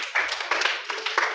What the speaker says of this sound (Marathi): याच्यासाठी टाळ्या वाजवा एकदा